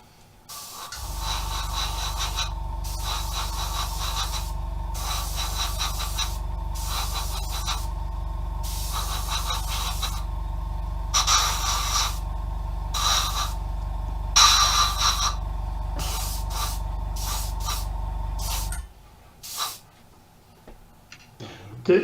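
An aerosol spray can is sprayed neat in repeated bursts of hissing spray, several short and longer blasts over a steady low hum, with a voice speaking briefly near the end.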